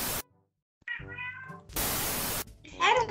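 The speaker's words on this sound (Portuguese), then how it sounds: "E eu escutei um miadinho." A cat gives a couple of short, soft meows that come through after bursts of static and noise, close and fairly quiet.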